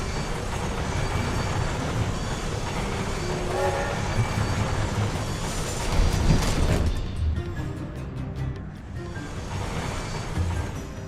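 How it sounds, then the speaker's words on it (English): Train in the Skylanders game level Lava Lakes Railway, rumbling and rattling steadily and loudly throughout, with a brief swell midway and a horn-like blare, heard alone without talk. "Train is chasing after freaking Glumshanks."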